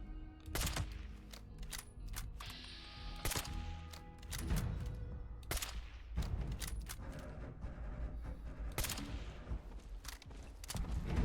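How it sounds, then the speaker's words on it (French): Gunfire in the video game Fallout 76, with loud, sharp shots and short bursts scattered over a dense, rumbling game soundscape. "Je lui tire une balle."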